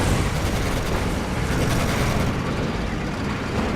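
A tank engine rumbles in the World War II game Codename: Panzer, a dense, loud and steady mechanical roar that holds throughout with no break.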